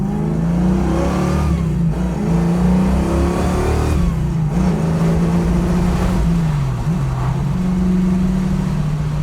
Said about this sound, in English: Ford small blocks always sound great.